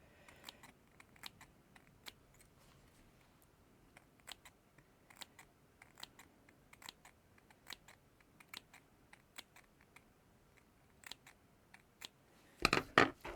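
Small sharp-pointed scissors snip through fabric for reverse applique, making a series of faint, crisp clicks at an irregular steady pace, close and quiet, ending with a louder burst of handling noise.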